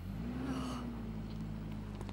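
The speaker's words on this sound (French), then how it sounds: "C'est la voiture de Sarah?" A car engine hums steadily nearby, with a brief rising whoosh early on as the vehicle rolls up, then settles into a low idle.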